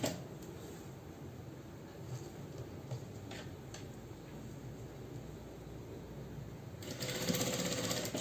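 A sewing machine stitches a blouse sleeve, giving a quiet, continuous fine mechanical whirr that runs steadily and picks up in speed near the end.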